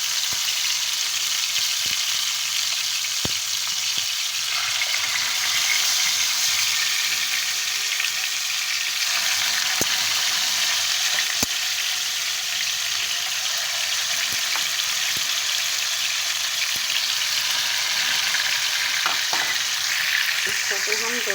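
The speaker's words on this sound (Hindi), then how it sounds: "लेकिन नाज़रीन, हमारा चिकन यहाँ फ्राई हो रहा है।" Marinated chicken for Chicken Changezi fries in a pan over lowered heat, making a loud, even, continuous sizzle and spatter that holds steady throughout with a few faint clicks, and no voices.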